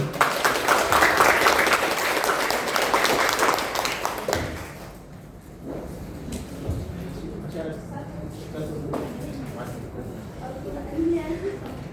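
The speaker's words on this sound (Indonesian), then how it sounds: "Beri tepuk tangan dulu" Applause for a student Syarhil Qur'an delegation at a provincial Qur'an competition event, a dense burst of clapping for about four seconds, then thinning into scattered claps, thuds and background murmur.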